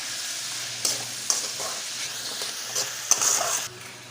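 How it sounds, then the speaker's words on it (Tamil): Steady sizzling of onions and tomatoes sautéing in a pan, with occasional scrapes and stirring clatter from a utensil; no talking. "வெங்காயம் தக்காளி வந்து வதங்குறதுக்கு சீக்கிரம் வதங்குறதுக்கு கொஞ்சம் உப்பு சேர்த்துக்கலாம்"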